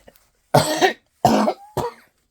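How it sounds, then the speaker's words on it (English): Three harsh, forceful coughs in quick succession, close and loud, with short pauses between them. "Yes, the cough is still with me."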